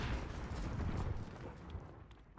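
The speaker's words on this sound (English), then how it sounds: "From instant to delayed explosions, C4 can do it." A C4 charge detonates in Call of Duty multiplayer: a loud, heavy, rumbling blast that fills the frame and slowly fades, with no one speaking over it.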